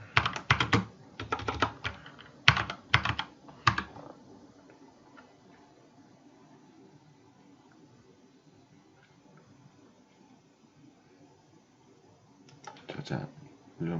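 Computer keyboard typing in short bursts of key clicks at the start and again at the end, with a quiet stretch between them and no talking.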